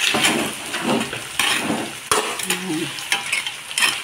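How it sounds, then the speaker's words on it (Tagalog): Crabs and mixed seafood are stirred in a hot pan, with scraping utensil strokes and clattering knocks over a steady sizzle, repeated every second or so. "Paghalo-halo na natin ito."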